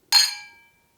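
Glasses clink once together in a celebratory toast, a single bright, sharp chime that rings out and decays within about half a second.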